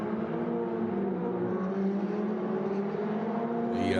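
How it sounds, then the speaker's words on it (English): Ferrari Challenge race cars circling Silverstone circuit on the National Pits Straight, a steady, distant engine drone held at an even level throughout, with a slightly brighter passing whine near the end. "the cars making their way around the circuit, heading now towards the old pits complex"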